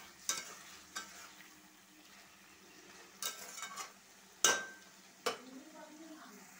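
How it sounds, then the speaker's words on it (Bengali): Meat fries in a covered kadai while it is stirred now and then. Soft sizzling runs underneath, broken by several sharp clanks as the lid is flipped and the spoon hits the pan, with quiet gaps between. "মাংসটা আমি আবারও ঢাকনাটা উল্টিয়ে নেড়ে দিচ্ছি"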